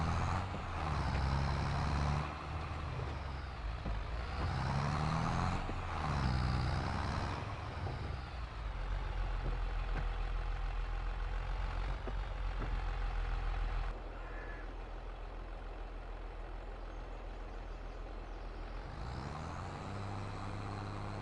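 A tractor engine in the Farming Simulator 24 video game runs steadily throughout, a heavy diesel drone with air-brake hisses and shifting revs early on, settling into a lower continuous hum.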